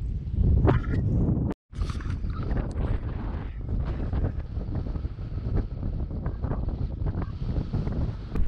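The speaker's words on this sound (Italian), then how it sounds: "Peccato per questo vento, ma non fa niente." Strong, steady wind buffeting the microphone outdoors in the Comacchio wetlands, a constant low rumble with gusty roar throughout and a brief dropout near the start.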